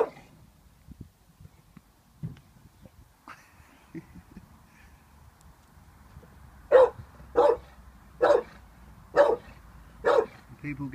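An 18-month-old Staffordshire Bull Terrier barks five times in a steady run of sharp, loud, close barks after a quiet stretch of faint room noise and small sounds.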